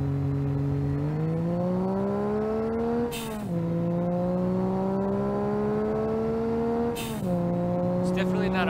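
In BeamNG.drive, a turbocharged six-cylinder car with a dumped clutch launches hard, its engine note climbing steadily through the gears, dipping briefly at each of two shifts as the wheels chirp, loud and close throughout.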